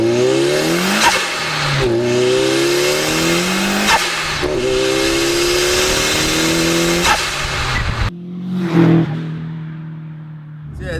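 A Fiat Uno Turbo, a light turbocharged hatchback of about 200 horsepower, revs hard through several gears, each pull rising in pitch before a shift drops it. Turbo whistle and hiss sit over the engine, and it ends with a lift-off and quieter idle.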